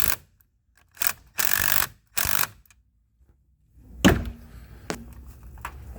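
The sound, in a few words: impact driver tightening a car battery terminal nut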